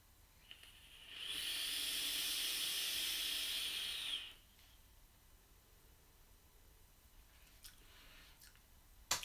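A Tiberian Vapor Mulciber atomizer fitted with a two-hole airflow ring and running at 35 watts gives one steady, airy hiss of about three seconds, then quiet with a few faint clicks.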